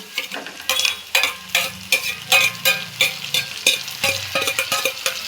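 Tomatoes go into onions and green chillies frying in a pan, with close, repeated scraping stirs over a soft sizzle, steady rhythmic strokes throughout and no talk.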